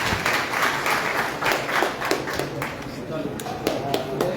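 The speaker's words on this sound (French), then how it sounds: "Merci d'applaudir, s'il vous plaît." Applause from a crowd at a community association gathering in a hall, steady dense clapping with scattered sharper claps throughout, fairly loud and close, with voices mixed in underneath.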